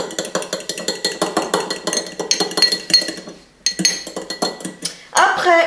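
A homemade face mask of olive oil and other ingredients being mixed in a bowl, a quick steady run of clinking spoon strokes against the bowl, close and loud, pausing briefly before resuming with louder scraping.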